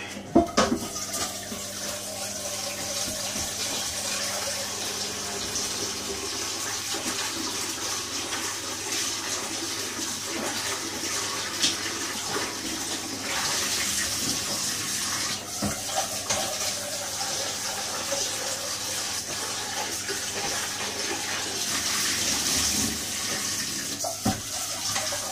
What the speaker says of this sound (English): Wash that out.